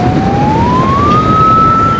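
An ambulance siren wails loud and near on a quiet Dhaka street at night, one long rising tone sweeping upward with no talk.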